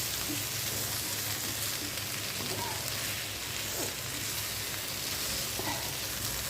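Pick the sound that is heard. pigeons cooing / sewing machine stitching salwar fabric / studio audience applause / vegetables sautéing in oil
vegetables sautéing in oil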